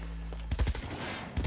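Gunfire in the Cyberpunk 2077 video game: a short quick burst of sharp shots, then one more shot a moment later, after a low steady hum.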